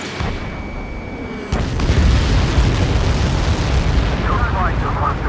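A Helios airburst weapon detonating in Ace Combat 7 lands as a sudden deep boom partway through, followed by a sustained heavy rumbling roar, with faint chirping warning tones near the end.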